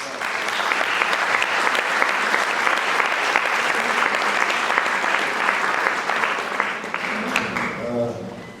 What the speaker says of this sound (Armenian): Եկեք ևս մեկ անգամ ծափահարենք այս մեծ